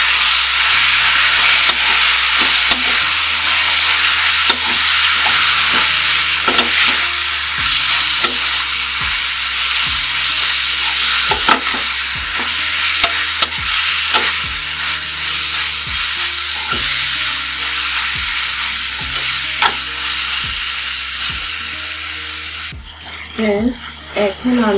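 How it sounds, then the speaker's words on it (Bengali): Elephant apple pickle with turmeric and red chili powder is stirred in a hot pan, a continuous loud sizzle broken by regular scraping strokes of the spatula, close up. "এটাকে একটু নেড়ে চেড়ে নেব"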